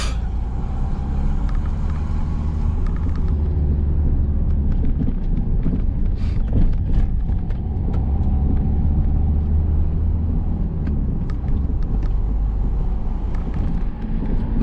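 A car pulls away gently from a stop sign during a driving test route, its low steady engine and road rumble continuous and close from inside the cabin, with faint clicks over it.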